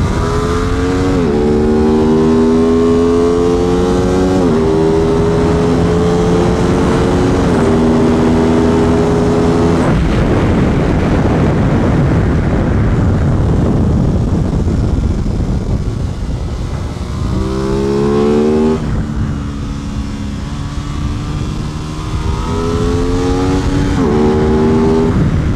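An Aprilia RS660 sport motorcycle is ridden hard on a race track, its engine loud and close, climbing through revs in rising sweeps with brief drops at each gear shift, wind roar throughout.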